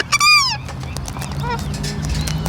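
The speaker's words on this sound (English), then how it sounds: "Oh, these birds are naughty." Birds squawk loudly nearby with sharp, harsh calls, a prominent call at the start followed by further scattered cries over a low background hum.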